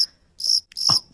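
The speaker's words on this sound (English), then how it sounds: "There's some crickets there." Cricket chirping added as a comic sound effect comes in two short, bright bursts separated by a pause, clear and alone with no talk.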